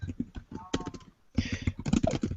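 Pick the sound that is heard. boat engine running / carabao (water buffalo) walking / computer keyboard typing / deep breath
computer keyboard typing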